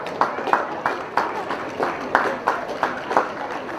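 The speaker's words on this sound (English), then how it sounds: "So round of applause for our officials, please." A crowd at a Cavan v Monaghan Ulster Ladies Intermediate Final gives applause for the match officials: scattered, moderately loud clapping with uneven rhythm, heard alone.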